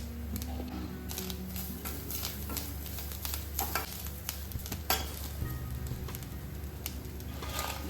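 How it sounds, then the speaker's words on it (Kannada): Grated fresh coconut with turmeric fries in a pan, a steady close sizzle broken by repeated scraping stirs of a spoon against the pan, with no talking. "ಇದನ್ನು ಕೂಡ ಇದರ ಜೊತೆಗೆ ಸ್ವಲ್ಪ ಫ್ರೈ ಮಾಡ್ಕೊಳ್ಬೇಕು"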